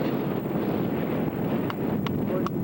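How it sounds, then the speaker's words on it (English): Wind gusts steadily across the microphone beside a lake lagoon, a constant rushing roar with a few brief clicks near the end and no voices. "It's a windy day today."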